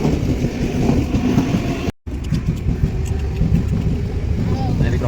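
A train passes a railway level crossing on the road toward the Konkan region, heard as a loud, steady rumble and clatter that fills the whole stretch, broken only by one brief dropout near the middle.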